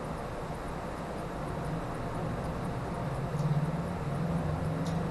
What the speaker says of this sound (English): That noise you hear is my ice maker.